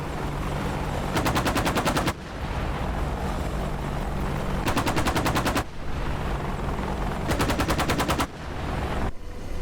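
Three bursts of rapid machine gun fire from an Apache helicopter in a video game ring out over a constant loud rotor and engine drone.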